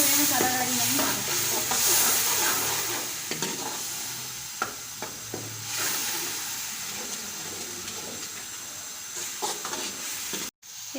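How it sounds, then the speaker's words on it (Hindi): Masala being stirred and fried in a pan for aloo gajar sabzi gives a continuous sizzle with scraping stirring strokes, steady and close, with no talking. "अब हम इस मसाले को अच्छे तरीके से भून लेंगे।"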